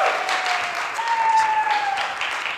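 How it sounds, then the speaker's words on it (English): Audience applause for Alicia Garza at a keynote interview, a steady dense wash of clapping through the whole stretch, with a faint whistle or tone riding over it. "Give her a round of applause"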